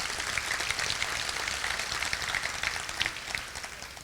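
A crowd applauds at the Thibodaux Volunteer Fire Department's 150th anniversary celebration, a steady, dense wash of many hands clapping throughout, fairly distant and even, with no voices rising above it.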